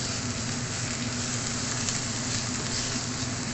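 Onion and garlic sizzle in a little oil in a pan, cooking for ginataang monggo with pork. A steady, even frying hiss continues close up with no talking.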